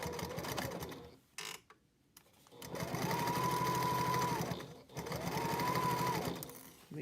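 A sewing machine stitches fabric for a packing cube in two long, close whirring runs, separated by a brief pause with a few soft clicks.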